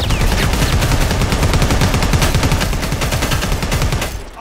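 Dense, continuous gunfire from the Predator: Hunting Grounds video game, rapid automatic bursts overlapping into a loud, steady barrage that fades slightly at the very end.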